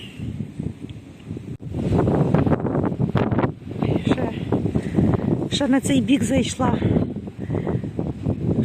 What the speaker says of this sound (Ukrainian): щоб ви бачили, якої сили вітер.